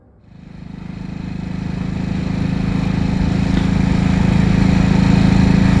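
A single 1947 Matchless G3L 350cc overhead-valve motorcycle engine catches and settles into a loud, steady running putter close by, building slightly in the first second.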